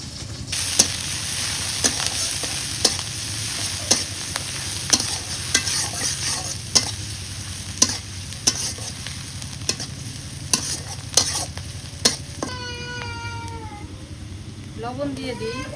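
Onion and green chili fry in mustard oil with a constant sizzle, punctuated by regular sharp clinks of a spoon stirring against the pot; a cat meows near the end.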